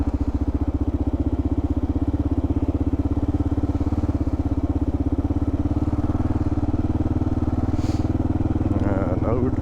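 A Kawasaki KLR650 motorcycle engine thumps in a steady, rapid single-cylinder rhythm while riding a muddy trail, loud and close, with a brief rider's voice near the end.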